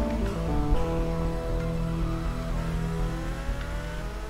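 A car drives steadily in the video game GTA Vice City, its engine droning at a fairly even pitch with slight revving, heard close and alone with no talk.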